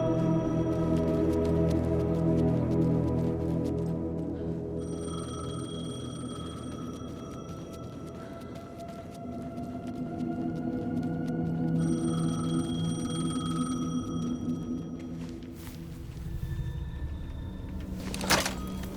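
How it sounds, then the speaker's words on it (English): A payphone rings in the video game Alan Wake 2, repeating electronic ring tones in several bursts over a dense, humming ambient backdrop, ending with a sharp click. "The payphone was ringing."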